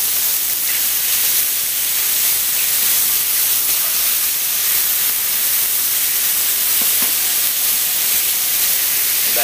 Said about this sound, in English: I'm going to take all this seafood. I'm not trying to cook it. All I want to do is just sear it.